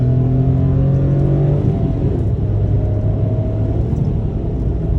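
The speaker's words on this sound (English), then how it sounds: "As you hear, that's all wind noise." Steady broadband rush of wind while a 2022 Mitsubishi Mirage G4 ES with manual transmission drives along, over a low engine hum that shifts tone slightly.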